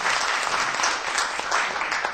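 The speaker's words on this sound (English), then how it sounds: "Give her a big round of applause" An audience at the Pravasi Divas NRI Awards gives a speaker a full round of applause, a dense, continuous clapping roar that holds steady throughout.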